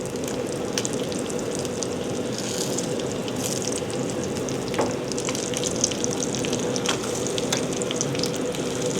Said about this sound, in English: So now we have these pierogies cooking in all that bacon goodness with the fillets